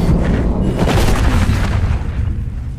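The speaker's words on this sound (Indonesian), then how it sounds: "Vaughn pun menembak mata Luz sebagai ancaman untuk Machete" A heavy gunshot blast in a Mexican mafia action film, a loud low boom with a rumbling tail lasting a few seconds and no voices.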